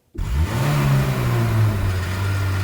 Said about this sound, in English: Suddenly, you hear the roar of a huge engine.